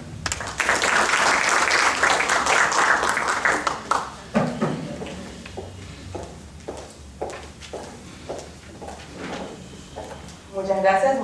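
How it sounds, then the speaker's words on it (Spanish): Warm audience applause greets a speaker at a formal event, a loud, dense clapping that fades after about four seconds into scattered individual claps, with some people talking as it dies away. "la cual la recibimos con un caluroso aplauso"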